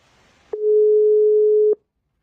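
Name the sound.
telephone ringing tone while calling a caller into the studio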